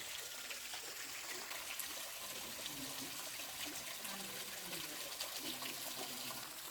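Water pours and splashes steadily at a waterfall in Hocking Hills State Park, a faint, broad continuous rush with a trickling texture and no break in the flow.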